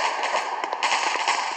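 Rapid gunfire from the mobile shooter game Gun of Boom crackles steadily through the whole moment, dense overlapping bursts at a fairly loud, even level with no pause.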